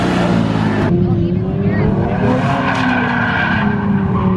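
A car drifting on a skid pad gives a loud, sustained engine roar and tire squeal that rises and wavers close by, with voices talking over it.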